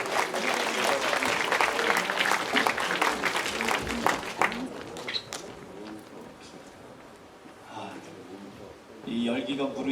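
A church chapel congregation applauds to welcome the pastor, a dense wash of clapping for several seconds that thins out toward the end, with voices and crowd noise underneath.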